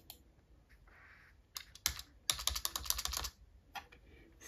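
Typing on a computer keyboard: after a few scattered clicks, a close, brisk run of rapid keystrokes rattles out, then a couple of final taps in an otherwise quiet room.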